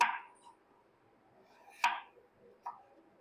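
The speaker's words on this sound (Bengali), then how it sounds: "এইভাবে আলু কাটবো আলুগুলোকে কাটবো" A knife cuts peeled potatoes in three separate crisp chops on a board, quiet and close, with pauses between each cut.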